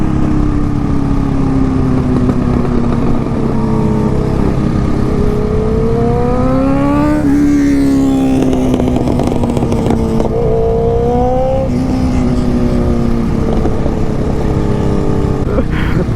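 A de-restricted Honda CBR 650 sport motorcycle engine revs hard and loud several times, pitch sweeping up and falling back over a steady rumbling idle, close by.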